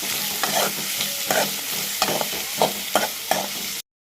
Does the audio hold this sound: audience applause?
no